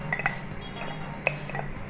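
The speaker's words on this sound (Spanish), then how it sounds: "ahora vamos a mezclar todo" Beet and carrot salad being mixed with potatoes in a bowl, giving a few light clinks and scrapes of utensil against dish, with sharper taps near the start and middle, close and moderately quiet.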